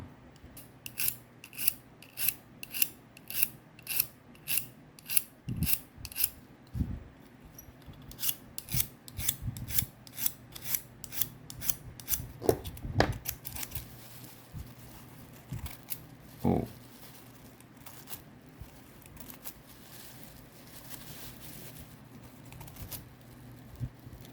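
Freshly sharpened inexpensive Daiso scissors snip through tissue paper in a run of crisp, regular cuts close to the mic, followed by scattered slower snips and faint rustling.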